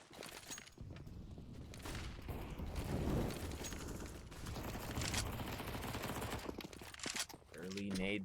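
Gunfire and grenade blasts from a competitive match in a video game, dense bursts of suppressive fire and explosions packed over several seconds beneath an announcer's excited commentary.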